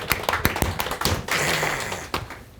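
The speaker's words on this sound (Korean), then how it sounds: "한 번 더 박수 칠까요?" A church congregation at a Christmas service claps in a short, uneven burst, individual hand claps audible close by before thinning out.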